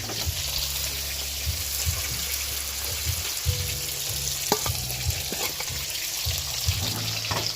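Fish frying in a pan, a loud, steady sizzle and crackle close by with occasional clinks and stirring scrapes, no talking.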